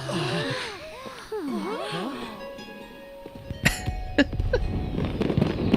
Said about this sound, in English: Oh man, fireworks.